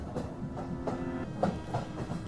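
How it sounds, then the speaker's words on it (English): Train sound in an RPG Maker video game, a quiet rhythmic clatter with soft repeating clicks and a faint hum, heard alone without talk. "I hear a train."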